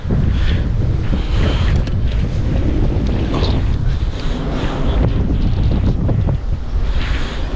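Steady wind rushes across a Flysurfer Sonic 5 foil kite laid flat on the ground perpendicular to the breeze, a loud continuous roar with gusty buffeting on the microphone throughout.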